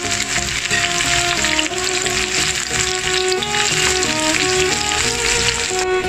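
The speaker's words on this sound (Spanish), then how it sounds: "le vamos a agregar nuestros aros de cebolla. Ya aquí lo pueden dorar a su gusto." Onion rings deep-frying in hot oil, a loud, dense crackling sizzle running steadily throughout, close up with no voices.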